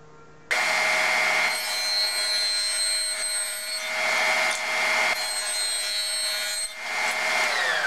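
A power saw or router cuts a 5/8 inch wide, 1/4 inch deep dado into 2x lumber, starting abruptly with a loud, steady, high whine that holds for several seconds with brief dips between passes.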